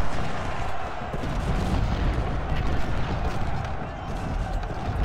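Dense, continuous rumble of Civil War cannon and gunfire booms in Ultimate General: Civil War, layered into a loud battle din, with a voice talking over it throughout.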